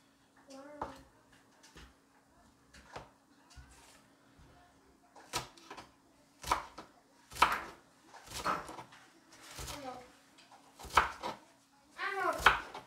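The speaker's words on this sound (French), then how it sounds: "Pareil, on le coupe en morceaux et en petits cubes." A knife chopping onion into small cubes on a board while making Tunisian ojja with meatballs: sparse, sharp taps that become a steadier rhythm of cuts, fairly close, amid quiet speech.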